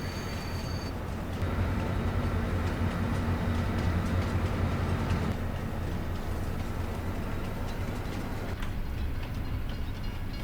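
A train running in Farming Simulator 22, a steady rolling rumble of wheels and wagons with faint rhythmic clatter, continuous and fairly quiet throughout, with no voices over it.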